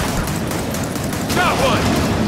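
Gunfire in Gears of War 4 as a player shoots at webbing, a dense continuous burst of shots and crackling impacts filling the whole moment, loud and close with a brief high squeal near the end.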